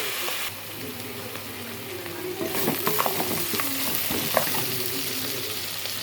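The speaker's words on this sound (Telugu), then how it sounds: "దీంట్లో కొంచెం ఉప్పు వేసి వేపుకున్నాం" Potatoes and carrots frying with salt in a pan for vegetable rice, a close hiss of oil that grows louder midway, with stirring scrapes and occasional clinks of the utensil.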